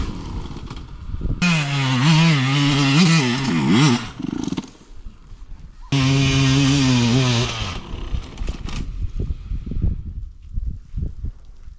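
A motorcycle engine revs hard in two long bursts while climbing a steep hill, its pitch rising and wavering under strain, then drops to rough idle and sputtering with knocks in between.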